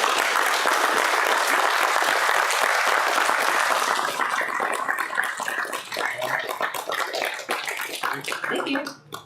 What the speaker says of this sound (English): So if you guys can give a quick round of applause, and we'll do it.